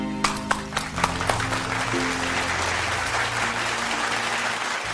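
A few scattered claps after a song, then a steadier round of applause in a home scene, with faint background tones underneath.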